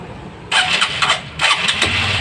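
A converted motorcycle engine cranks in a few short bursts and then catches, ending in a low idle close by.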